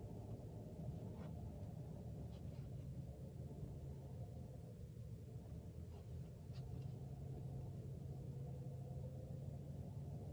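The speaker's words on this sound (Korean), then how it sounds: "쭉 악셀 밟고 올라갈게요." A car pulls out and accelerates up a narrow alley during a driving lesson, a steady low engine rumble and road noise heard from inside the cabin, continuous and moderate with no talk.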